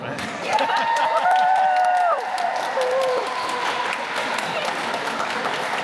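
A crowd at a UK national jigsaw puzzling competition applauds and cheers for a nearby table, a steady sustained roar of clapping with voices talking over it and a few whistle-like tones early on.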